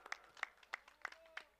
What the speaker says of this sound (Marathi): या स्पोर्ट्समॅनशिप साठी जोरदार टाळ्या